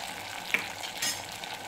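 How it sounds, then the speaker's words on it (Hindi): Tomato puree fries in a pan for dal, giving a soft, steady sizzling hiss with a brief sharp crackle partway through and no voices. "अब इसमें हम टमाटर की प्योरी डाल देंगे। तो भी अच्छे से भून लेंगे।"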